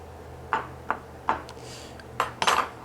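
Sharp, light metallic taps as a fork pricks chebureky dough, five or six distinct clicks at uneven intervals, close and fairly quiet against a faint low background hum.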